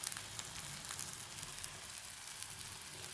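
Egg masala fry cooking in a pan over a low flame, with a soft, continuous sizzle and small crackling pops, faint and close with no voices.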